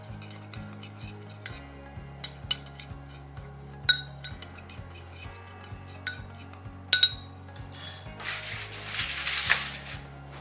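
A spoon stirs black pepper seasoning mix in a bowl for oven-baked pork tenderloin, producing a run of light, irregular clinks and scrapes against the bowl over faint background music, with a brief rustle near the end.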